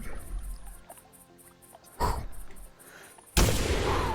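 Rifle shot fired at a hog in theHunter hunting game, one sharp loud crack that rings out and leaves a dense sustained tail, after an earlier smaller report, over quiet outdoor ambience.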